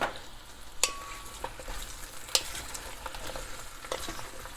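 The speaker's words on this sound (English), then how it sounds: "let this kind of simmer in the oil for just about, I don't know, 5 minutes" Chopped vegetables for butternut squash soup simmer in oil in a pan, a soft steady sizzle with a few sharp scraping clicks of stirring scattered through, close and fairly quiet with no talk.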